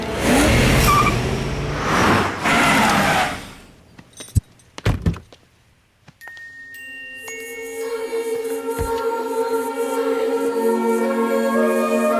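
Cars start up and rev away: a noisy rush and a few sharp door-like thunks, then a brief near-silence before engines catch and settle into a steady, rising drone that carries to the end.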